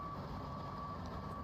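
Truck reversing beeper while backing up a trailer in Roadcraft, a steady high tone held continuously under a low engine rumble, fairly faint.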